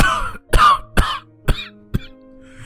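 A man coughs in a ragged series of about five harsh bursts, the first few loud and close, tapering to fainter, rasping coughs with short pauses between them.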